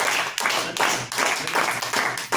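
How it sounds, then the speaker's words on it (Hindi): Energetic audience applause at a welcome for a guest, steady clapping in repeated surges with brief dips, loud and close, with possible voices mixed in. "जोरदार तालियां, जोरदार तालियां"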